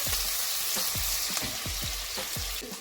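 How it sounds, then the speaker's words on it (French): Onions sizzle loudly in hot oil in a pan for Senegalese thiéboudiène, a dense continuous frying hiss broken by regular scraping stirs, close up and without talk. "je mets les oignons."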